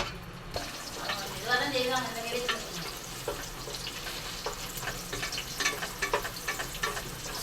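Small onions sautéing in a pan for an oyster mushroom gravy, a soft continuous sizzle with occasional stirring scrapes, while a voice talks briefly over it.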